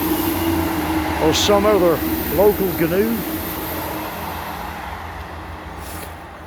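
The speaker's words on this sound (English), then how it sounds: "That's a train passing." A train passes near a quiet rural home as a steady, broad rumble beneath a man's speech, gradually fading toward the end.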